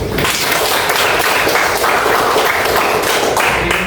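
A classroom breaks into loud, steady applause, many hands clapping together in a dense, continuous roar that lasts a few seconds without pause.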